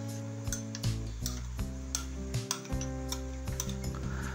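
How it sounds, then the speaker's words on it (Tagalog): Potato chicken salad with pineapple tidbits and mayonnaise dressing stirred in a bowl, giving soft repeated clicks and scrapes of the utensil in an irregular rhythm over a steady tonal background. "Haluin lang natin hanggang sa maikot ang dressing."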